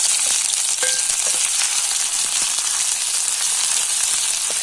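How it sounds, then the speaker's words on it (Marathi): Green garlic shoots frying in a little oil left over from making fritters, giving a steady close sizzle with scattered pops and crackles throughout, no voices. "आता आपल्याला तळून घ्यायचं आहे तळण्यासाठी असं आपण भजी पाडलेलं तेल घेतलेलं आहे थोडं आणि त्याच्यातच"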